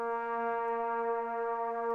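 A single sustained trombone harmony layer, one recorded voicing of a chord stack, holds a steady bright tone with rich overtones for the whole stretch, even and unbroken, with no talking.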